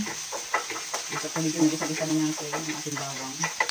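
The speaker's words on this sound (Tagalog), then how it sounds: "Unahin natin yung bawang, halu-haluin lang natin." Garlic stirred and sautéed in a pan for pork pochero, with a utensil scraping and knocking in a rapid irregular rhythm over a soft close sizzle.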